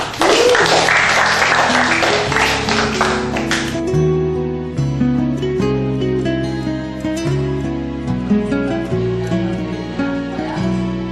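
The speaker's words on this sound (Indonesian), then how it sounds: "Kita berikan tepuk tangan untuk kita semua." Classroom applause from a group of students, a bright burst of clapping for about four seconds that gives way to loud, sustained instrumental music with steady tones.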